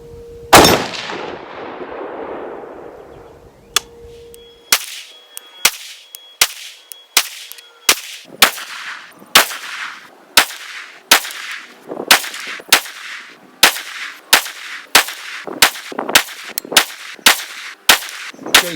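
An AR10 rifle chambered in .30-06 fires old Winchester hunting ammunition at a range: one loud shot with a long rolling echo, then a pause, then a steady string of about twenty sharp, evenly spaced shots close by.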